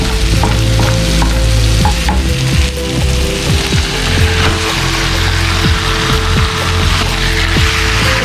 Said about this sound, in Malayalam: ഇതിലേക്ക് നമുക്ക് മാരിനേറ്റ് ചെയ്ത് വെച്ചിട്ടുള്ള ചിക്കൻ ഇട്ട് കൊടുക്കാം